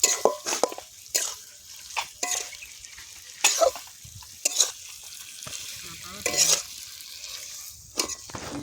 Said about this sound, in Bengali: আমি মাংসটা খুব সুন্দর করে হ্যাঁ অনেকক্ষণ ধরে হ্যাঁ কষাবো